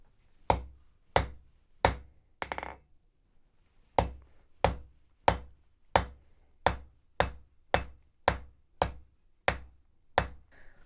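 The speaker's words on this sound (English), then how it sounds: "Getting rid of the excess material and forging the tip of the leaf at the same time" A heritage blacksmith at the Ulster Folk Museum forge hammers the tip of an iron leaf. About sixteen sharp, ringing blows fall in a steady rhythm, with one short pause after the first four.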